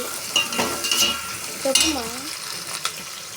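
Onions and green chillies fry in a pan for vegetable pulao, with a steady sizzle under repeated stirring scrapes and clinks of the spoon against the pan, all close and moderately loud.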